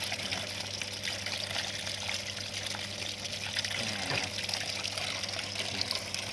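Liquid laundry detergent pours into the dispenser of a Sharp inverter 16kg top-loading washing machine, a soft continuous trickle and splash that stays faint and steady throughout, with no talking.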